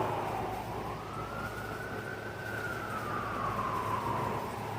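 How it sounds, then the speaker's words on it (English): A single siren wails in a slow rising and falling tone, moderately distant, over a steady low traffic rumble. "I'm sorry about the sirens"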